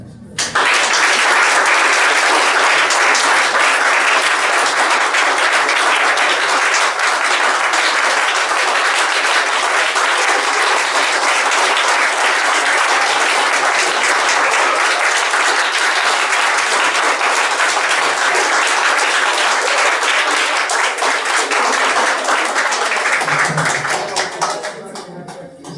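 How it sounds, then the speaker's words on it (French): A church congregation at a Sunday service claps loudly and continuously for about twenty-five seconds, a thick unbroken wash of many hands that drops away abruptly at the very end. "Moi, je vous demande d'applaudir un petit peu l'archange Michael."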